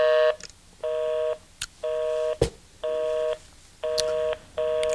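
Telephone tones from dialing a busy number: a regular series of identical beeps, each about half a second with short gaps, clear and close, with a few faint clicks between.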